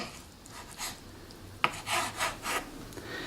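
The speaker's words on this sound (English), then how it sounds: "we're going to cut this into about quarter inch long pieces" A knife cutting asparagus into quarter-inch pieces on a board, a close series of about five short rasping strokes with one sharp tap, quiet and alone.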